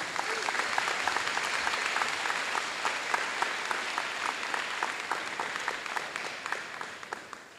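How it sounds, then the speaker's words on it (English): An audience at a school awards ceremony claps for itself, a steady ragged patter of many hands at moderate distance that slowly thins toward the end. "let's give ourselves a round of applause"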